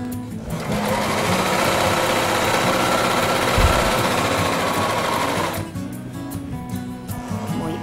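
A sewing machine runs steadily for about five seconds while stitching together the fabric segments of a pouf, loud and continuous, then stops and leaves quiet room noise.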